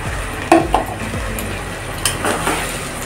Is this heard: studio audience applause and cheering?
no